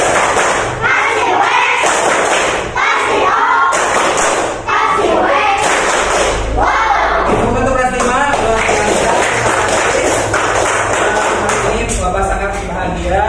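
A primary school class performs the rhythmic 'tepuk uang' clapping game together, loud patterned hand claps mixed with children chanting throughout.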